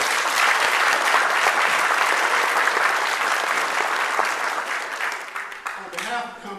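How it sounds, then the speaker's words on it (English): Dense, loud applause from a school meeting crowd for a steel drum band, sustained and steady before thinning toward the end as a voice begins speaking. "Can we get another round of applause for our steel drum?"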